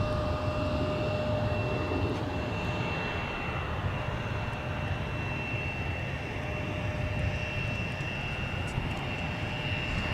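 Airplane engine at Minneapolis–Saint Paul (MSP) airport, a steady distant roar with a faint tonal whine holding throughout, no talk.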